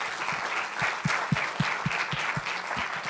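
Audience applause closing the third panel of a Portuguese-language conference on digital transformation and customer service automation, a steady dense wash of many hands clapping, fairly close and continuous with no talk over it.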